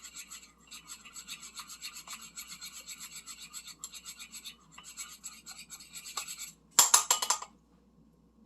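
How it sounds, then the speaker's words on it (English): A coffee and cocoa face mask paste is stirred in a bowl, giving a steady gritty scraping rasp with a rhythmic pulse, close and fairly quiet, ending with a brief louder clatter and then near silence. "I just want to get everything all nice and mixed."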